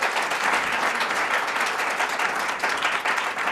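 Heavy, sustained applause from an audience at a talk on security, people, fear and states, dense clapping filling the room at full volume without a break.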